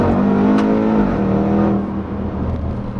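A Range Rover Sport SVR engine revs hard toward the redline during a kickdown, a loud, close roar that climbs steadily and then drops as the gearbox shifts.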